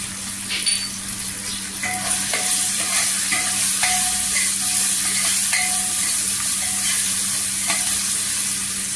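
Fresh coriander leaves sizzle in hot oil in a pan, a loud continuous close-up frying hiss with light scraping taps of a spoon stirring throughout, no voices.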